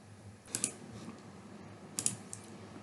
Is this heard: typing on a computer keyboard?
yes